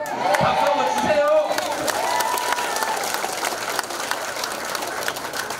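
An audience at the opening of a Korean mayoral candidate's campaign office breaks into applause, loud clapping with cheers and shouts that swells at first and then settles into steady clapping, with voices underneath.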